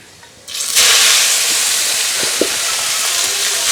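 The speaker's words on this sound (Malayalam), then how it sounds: "നമുക്കിതിലോട്ട് മത്തൻ്റെ ഇല ഇട്ട് കൊടുക്കാവേ." Pumpkin leaves dropped into a hot, blackened iron pan in a Kerala village kitchen hiss into a loud, steady sizzle that rises abruptly and holds for several seconds, with a couple of faint pops; no voices.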